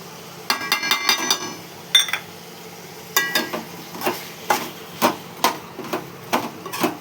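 A utensil stirs food in a cooking pan, scraping and clinking against the metal in irregular bursts, with some quicker runs of strokes and a faint sizzle underneath; close and fairly loud.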